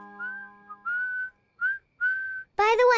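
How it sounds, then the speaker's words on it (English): A cartoon pig whistles a tune in short melodic phrases with pauses between them, close and clear, ending in a brighter, louder burst of sound. "whistling is an excellent way to play music without using electricity"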